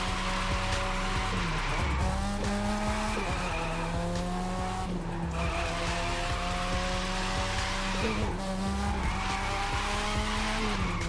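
Tires squeal continuously as a car drifts in The Crew 2 at LA Harbor, the steel forge plant and the airport terminal, a loud sustained screech over a revving engine whose pitch rises and drops with each shift.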